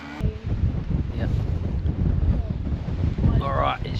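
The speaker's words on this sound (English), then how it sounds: "as you can tell, she's pretty windy" Strong wind buffets a microphone outdoors on an open hillside with fresh snow, a heavy continuous rumble with gusts, and a voice briefly heard under it.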